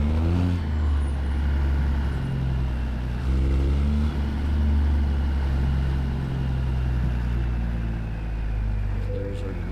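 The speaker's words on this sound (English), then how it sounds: "Oh man, that engine is so nice." Deep, steady truck engine drone from American Truck Simulator with a Zeemods sound mod, a continuous low rumble with shifting harmonics heard from outside the cab, running loud and unbroken throughout.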